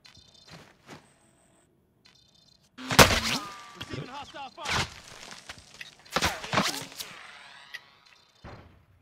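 Sharp gunshot cracks and impacts from the battle royale video game Call of Duty Warzone, set in Verdansk, come in several loud bursts separated by near-silent gaps.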